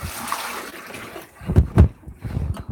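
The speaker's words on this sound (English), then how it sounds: "Half of the water flushes down the other side of the sink." Rinse water gurgles and splashes as it drains down one side of a kitchen sink, a soft trickle rising into two short, louder gushes near the end.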